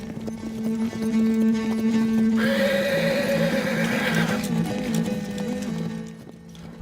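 A Mongolian horse gives a loud, drawn-out neigh over a sustained tonal background, which fades toward the end.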